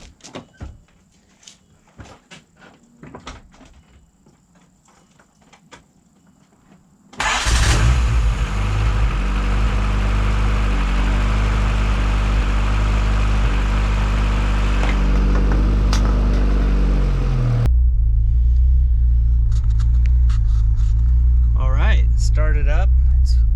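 A Honda D16Y7 engine fitted with a VTEC cam cranks and catches after some quiet shuffling and a door sound, then settles into a loud, steady, close-up cold idle that carries on for about fifteen seconds.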